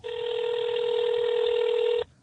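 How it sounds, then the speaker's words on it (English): A telephone rings with one continuous electronic tone lasting about two seconds before cutting off, fairly loud and clear over a quiet studio background, with no talking during the ring. "Phone's ringing."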